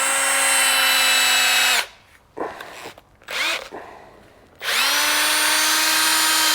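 A drill whines steadily at high speed, spinning an engine valve from a Yamaha 350 Warrior ATV to clean it, running loud and close, cutting out briefly with a few short bursts, then spinning back up to full speed.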